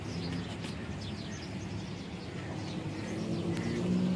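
Flying pigeons of a high-flying breed give brief, scattered chirps over a constant low background hum, with no speech.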